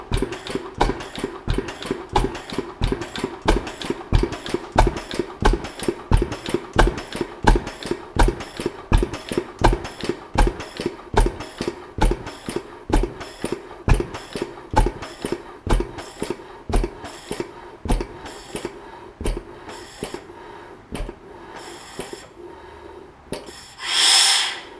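A vintage 20 horsepower stationary engine rated at 750 RPM, running with a steady loud chuffing beat of regular firing pulses close by, slowing slightly near the end before a final swell.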